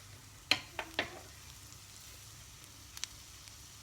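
Carrots sautéing in about nine grams of butter in a pan give a faint, low sizzle, broken by a few soft clicks and scrapes, a cluster early on and a couple more near the end.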